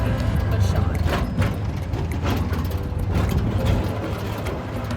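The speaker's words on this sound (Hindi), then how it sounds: "रिक्शा राइड तो गाइस कंपलसरी है, कहीं भी जाओ हो ही जाते हैं।" An auto rickshaw ride in Gujarat, with a steady, loud low engine drone and road rumble running throughout.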